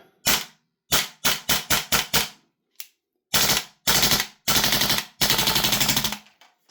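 Salvo Precision BRN-180 Deluxe gas blowback airsoft rifle firing a magazine: close, loud semi-auto shots, first spaced singly, then quick bursts and long rapid strings that taper off as the gas runs low.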